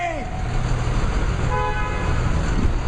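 A car horn toots in a congested airport pickup lane amid a traffic jam. The honk is loud and brief, over a continuous rumble of idling vehicles and crowd noise.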